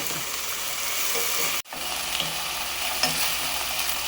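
Onion fries in a hot pan, a steady close sizzle with light stirring clatter that cuts out abruptly for a split second before resuming.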